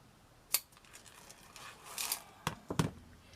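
Scissors snipping through material for a shabby chic mixed media wool frame, a few quiet, sharp cuts spaced apart with a soft rustle between them, close and alone.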